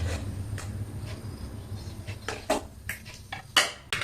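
Tamarind rice being mixed in a metal pot with a spoon, sparse clinks and scrapes of utensil against metal, a few sharper knocks near the end, close and fairly quiet.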